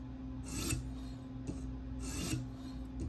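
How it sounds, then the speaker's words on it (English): Sharpening stone drawn along the bevel of a K390 steel Delica knife on a TSProf K03 guided sharpener: slow, repeated gritty rasping strokes, close and quiet, with a steady low hum underneath. "I am just letting the weight of the stone, I'm sitting it down and I'm moving it"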